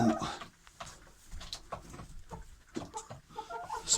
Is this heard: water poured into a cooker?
no